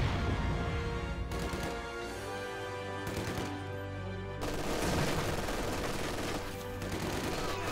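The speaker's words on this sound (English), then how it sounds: "Machine gun burst right there will suppress those conscripts" In a real-time strategy game battle, rapid machine gun bursts chatter amid other gunfire and explosions, in several dense, loud volleys with brief lulls between them and no talking.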